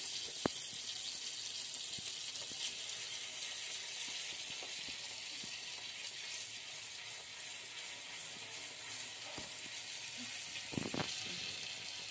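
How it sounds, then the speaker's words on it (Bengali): Kashmiri chili sizzles in hot butter for a tadka, a steady, fairly quiet frying hiss with a few sharp pops and clicks near the end. "আমি একটু মাখন গরম করে নিচ্ছি, তার মধ্যে আমি কাশ্মীরি লঙ্কা জাস্ট একটু তড়কা দেবো।"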